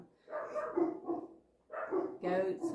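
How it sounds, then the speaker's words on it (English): Several household dogs on a rural property with many animals bark in two bursts of yips and woofs, fairly close, separated by a short pause, with no talk over them. "I have lots of animals. I have 3 or 4 dogs"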